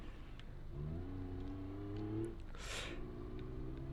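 A three-wheel car with a 658cc diesel engine, driven off-road in BeamNG.drive, revs up and holds a rising whine before easing off, ending on a brief hissing burst, with no talk over it.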